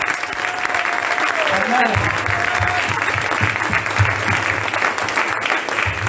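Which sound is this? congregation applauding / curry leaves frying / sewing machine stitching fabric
congregation applauding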